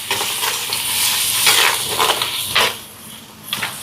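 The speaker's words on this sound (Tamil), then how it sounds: "கலந்துடுவோம்." A spoon stirs spices in a pan for egg biryani, with scraping, mixing strokes and a soft sizzle underneath, growing louder mid-way and then easing off, up close and without speech.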